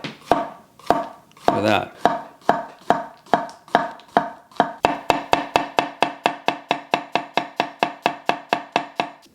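A Kan chef's knife slices food on a board in a steady run of crisp, close chops that start sparse and quicken into an even, rapid rhythm, with a brief word spoken early on.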